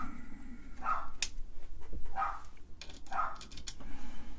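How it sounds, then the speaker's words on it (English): A dog barks somewhere below in a workshop, three separate barks spaced about a second apart, moderately distant, amid faint clattering and shuffling, with no talking. "there's Anna barking down there"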